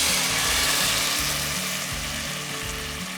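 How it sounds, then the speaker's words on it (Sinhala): Thinly sliced onion hits hot oil in a pan for a vegetable chop suey, a loud continuous close sizzle over a low, rhythmic mechanical hum, no voices. "රත් වෙච්ච තෙල් ටිකට මං දැන් හීනියට කපාගත්ත ලුණු ගෙඩි භාගයක් එකතු කරගන්නවා."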